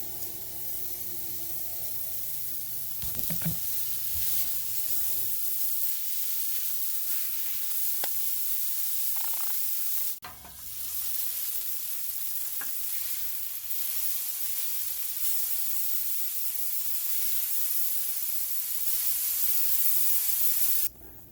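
Bacon strips sizzle in a hot pan while a burger cooks, a steady crackling hiss that runs the whole time with a brief dip partway through and no voices.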